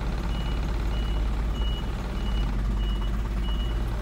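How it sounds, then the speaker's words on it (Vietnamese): Reversing beeps from a truck backing up at a Ngoc Ha driving test yard during a class C licence exam, with faint periodic tones over a steady low engine rumble throughout. "lùi lùi nó kêu bíp một phát thì là sẽ được"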